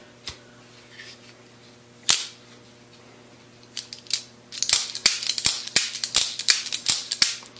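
The shark lock on a Demko AD20.5 folding knife snaps open and shut, with a few sparse sharp clicks at first and then a rapid run of repeated crisp snaps from close up.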